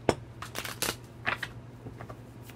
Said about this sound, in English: Do one more shuffle for Pisces.